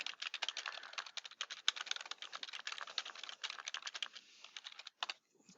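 Rapid typing on a computer keyboard while filling in a worksheet: dense, irregular key clicks run almost continuously, then slow to a few scattered taps at the end, close and clear.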